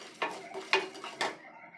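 Chopped large onion tumbles into a clay pot of pan-roasted pepper and cumin masala, giving three distinct clattering scrapes of a spoon against the earthenware, close and fairly quiet, with no talking.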